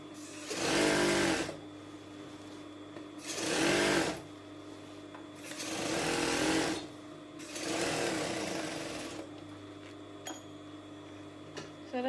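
A sewing machine stitching gathers into dress fabric runs in four loud close bursts of rapid whirring, separated by short pauses.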